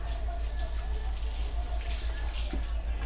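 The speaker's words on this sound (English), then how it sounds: "I'm gonna wash my hand real quick." Steady running water from a tap pours over a hand being washed in a kitchen, a constant close hiss and splash lasting throughout.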